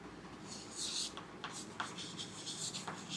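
Pen or pencil scratching across paper, soft irregular strokes and short taps over a faint hum of room noise, with quiet scattered flourishes.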